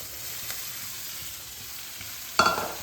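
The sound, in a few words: stirring fried potatoes and drumsticks into spice masala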